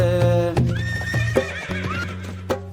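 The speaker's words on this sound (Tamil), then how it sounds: "குதிரை வருது பாருங்க, அது குதிச்சு வருது பாருங்க." A horse whinnies loudly and repeatedly, the neighs carrying over a steady clip-clop of hooves, with harmonic calls rising and falling close by for a few seconds; no one speaks.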